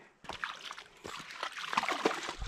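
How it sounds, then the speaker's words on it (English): A dog swims in a river on an evening wilderness camping trip, with close, irregular splashes and sloshing water in short bursts, fairly quiet overall. "Going for an evening swim, Bells?"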